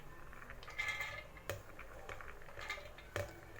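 About 200 grams of dry chana dal is tipped into an empty mixer jar with no water, producing a few clattering, rattling bursts of hard lentils hitting the jar, close and fairly quiet.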